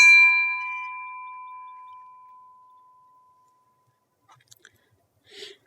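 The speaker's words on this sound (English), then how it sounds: "Let's take a moment and hear what this bell might have sounded like on one of those cold and blistery days" A single strike of the old Cokesbury College bell rings out clear and bright, its tone slowly fading over a few seconds, followed by a few faint clicks and a soft rustle.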